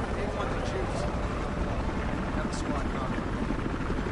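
A police helicopter in the video game Battlefield Hardline thrums with a steady, loud rotor roar that fills the whole stretch, with a player's voice talking over it.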